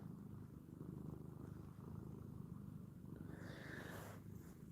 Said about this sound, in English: Y'all hear him purring?